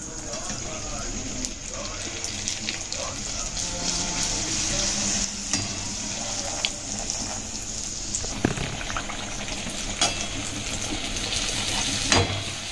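Fuchka puris frying in hot oil, a steady close sizzle and bubbling throughout, with faint stirring and occasional light knocks. Someone talks over it.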